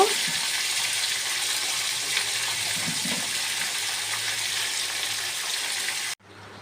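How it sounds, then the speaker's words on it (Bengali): Mixed vegetables sizzle and fry steadily in a pan for a Bengali chorchori, a loud, continuous hiss close up that cuts off abruptly near the end. "ভালো করে ভেজে নেব।"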